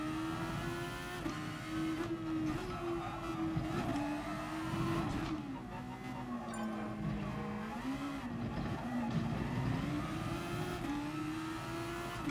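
A race car in Gran Turismo Sport drives continuously, its engine note rising and falling through gear changes and corners, with occasional tire noise, steady and fairly close.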